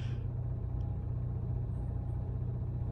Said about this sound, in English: What the heck is that? My exhaust loose or something?